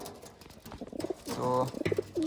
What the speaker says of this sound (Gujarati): અંદર પક્ષીઓનો ને એવો હંધો અવાજ સંભળાય છે